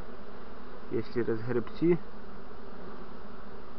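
A swarm of honeybees hums steadily in the background, faint but continuous, while someone speaks briefly over it.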